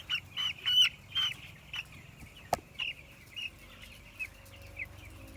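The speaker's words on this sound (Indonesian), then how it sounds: "Ini ayam broiler tipe jenis big top." Broiler chickens of the big top type in a bamboo coop give repeated soft clucks and short calls at close range, a steady scatter of bird sounds with one sharp knock partway through.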